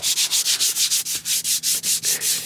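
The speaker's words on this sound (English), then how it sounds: "So just get it all roughed up, even the good parts, because you want the dye to adhere." A worn car seat is scuffed with quick, even back-and-forth strokes, a loud rhythmic rasping about five rubs per second, close up and alone.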